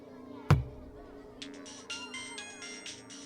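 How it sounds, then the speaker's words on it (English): A phone ringing, a bright electronic ringtone melody in short repeated bursts following a sharp knock, faint and close in a quiet room. "Don't answer the phone."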